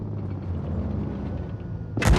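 A single loud tank cannon blast booms at the very end after low, steady engine rumble, in the video game World of Tanks Blitz.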